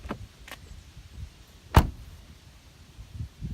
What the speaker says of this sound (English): They sound awesome. Nice solid thud.